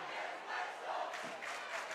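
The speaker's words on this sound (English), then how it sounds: "And the crowd is chanting" A football crowd at a high school game between Roxbury and Mount Olive chants, a faint, distant swell of massed voices rising and falling in a rough rhythm across the stands.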